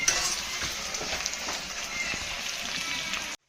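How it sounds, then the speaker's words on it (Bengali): Sliced onions fry in hot ghee in a pan, browning as a base for chicken, potato and egg biryani, giving a steady, close, continuous sizzle with faint stirring scrapes throughout. "মাংসটা কষানোর জন্য পেঁয়াজ ছেড়ে নেওয়া হচ্ছে।"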